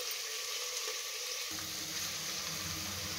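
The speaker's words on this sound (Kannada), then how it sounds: "ಫ್ರೈ ಆಗಿದೆ ಬಟಾಣಿ." Green peas frying in a pan for veg biryani, a steady close sizzle throughout that thickens into a fuller crackle about halfway through, with no talk.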